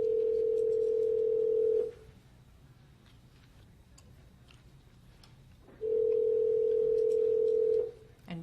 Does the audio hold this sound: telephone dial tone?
yes